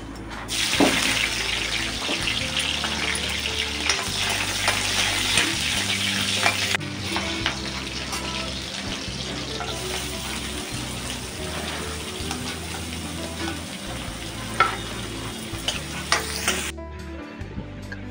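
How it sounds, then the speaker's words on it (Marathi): Onions frying and stirred in hot oil in a kadhai for a leafy vegetable dish, a steady loud sizzle with scraping stirs and clanks throughout, tapering off at the end. "कांदा तेलामध्ये नरम झाल्यावर"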